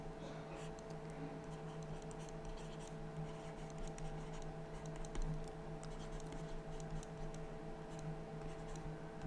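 A pen scratching on paper while writing out a math problem, faint rapid strokes and ticks running steadily under a constant low electrical hum.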